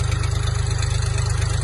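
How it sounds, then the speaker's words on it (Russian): A Xingtai four-wheel-drive tractor engine idles loud and close with a steady, rapid low-pitched throb and a constant mechanical chatter, with no voices. "Трактор отлично работает."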